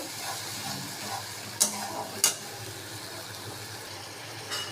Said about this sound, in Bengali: একটু সামান্য হলুদ গুঁড়ো দেব, একটু লঙ্কার গুঁড়ো দেব, দিয়ে মশলাটা ভালো করে কষিয়ে নেব